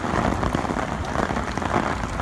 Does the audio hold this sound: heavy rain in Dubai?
yes